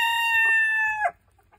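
A Silkie hen gives one drawn-out, tonal call lasting about a second, close and clear, before cutting off into near silence.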